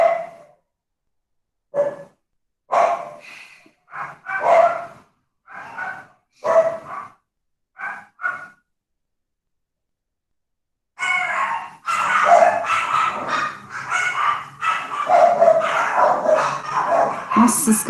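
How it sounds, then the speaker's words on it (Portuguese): Several dogs bark in a home: short, loud barks with yips and whimpers come in separated bursts, then a denser stretch of barking mixes with a person talking. "Nossa, essa cachorrada aqui em casa hoje tá que tá"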